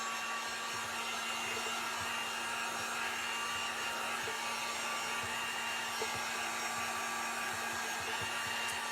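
A hair dryer blows steadily on a small wet craft piece, a continuous close whirring hum with a faint motor tone that runs unbroken throughout, with no talking.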